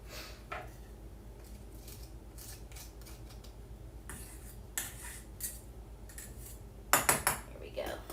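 A spoon mixes a butter crumb topping for pumpkin bars in a bowl, with soft scraping and quiet clinks, then a burst of louder knocks against the bowl near the end.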